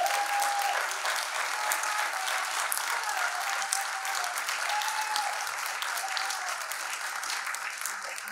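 An audience at a candidates forum applauds steadily and loudly, sustained clapping from a crowd throughout with a faint voice over it.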